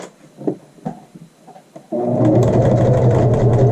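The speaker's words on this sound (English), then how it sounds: "Starting with a little bit of a back stitch." A sewing machine stitches a facing onto a child's shirt, starting with a back stitch: a few quiet clicks and handling taps, then a sudden loud, steady mechanical whirring run of stitching up close.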